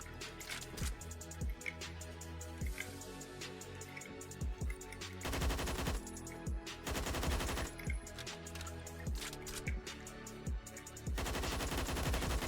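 Rapid bursts of automatic fire from an AUG A1 rifle in the video game Phantom Forces, several sharp volleys repeating with short gaps, loud and close, with no talking.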